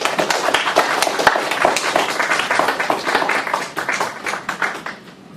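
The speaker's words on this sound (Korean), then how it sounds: "여러분 큰 박수 부탁드립니다." Lively audience applause at a Korean philosophy seminar as a professor is welcomed to the stage, dense rapid clapping that holds steady and then thins out toward the end.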